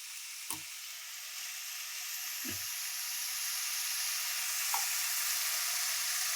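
Masala frying in oil in a pan, with a steady bright sizzle throughout, broken by a few soft knocks and scrapes of a spoon against the pan.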